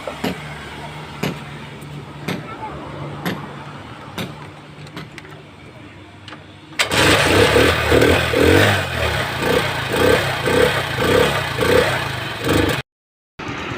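A motorcycle engine is started with a capacitor fitted in place of the battery. Quiet surroundings with a few faint knocks come first. Then the engine catches and runs loud and close, with a steady rapid idle pulse, and cuts off near the end.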